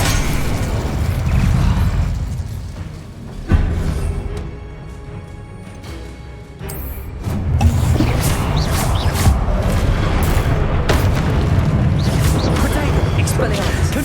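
Fire spell blasts in Hogwarts Legacy combat: loud booming bursts and crackling impacts rise and fall over the span, with a quieter lull in the middle and a heavy renewed roar after it.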